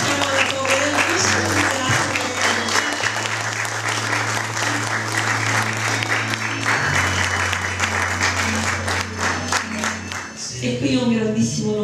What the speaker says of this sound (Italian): Vi prego di, con un applauso gentilmente, a voi.